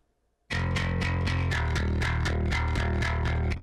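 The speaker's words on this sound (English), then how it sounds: "This is what it sounds like with the DI output from Gin bass into the pedal board." A bass guitar fed through a distortion pedal board plays a chugging, rhythmic riff of repeated fuzzy, gritty notes. It starts abruptly after a brief near-silence, stays loud and even throughout, then cuts off at the end.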